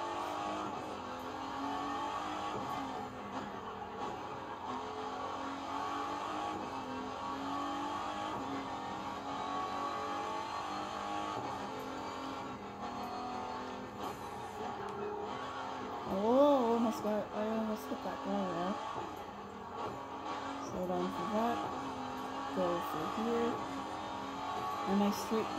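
Car engine in The Crew 2 racing game, heard from the inside cockpit camera on a bumpy downhill road, humming steadily and rising briefly in pitch around the middle, with someone talking over it throughout.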